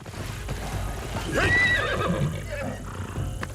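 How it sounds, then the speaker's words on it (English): A horse in a video game neighs with a bright, wavering whinny in the middle of the stretch, over a low, steady game background. "It's a horse."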